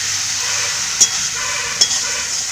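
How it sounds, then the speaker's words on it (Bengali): Boiled potatoes and green jackfruit with salt sautéing in a pan for a fish-head dish, giving a steady, loud sizzle with two short scraping knocks of a stirring spoon. "এবারে আমি দিয়ে দিব আলু আর হেঁচড়ে সেদ্ধ স্বাদ মতো লবণ দিয়ে দিব ভালো করে কষিয়ে নিব"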